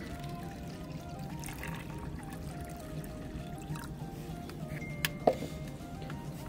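Plain water poured onto acid-washed copper residue, a steady, soft splashing stream that runs the whole time at low level with no talk over it.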